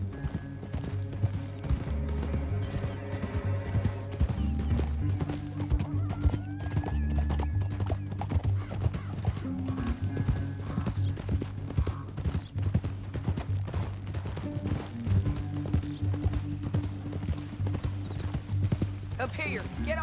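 Horses trot steadily in the video game Red Dead Redemption 2, hooves clip-clopping in a constant rhythm with an occasional whinny, under music and characters talking.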